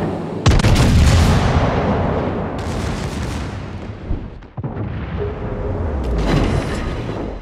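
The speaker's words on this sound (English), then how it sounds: "Enemy destroyer blown up." Enemy destroyer blowing up in World of Warships, heavy booming naval gunfire and explosions rolling continuously at close range, with a sharp blast midway and another surge of roaring detonations near the end.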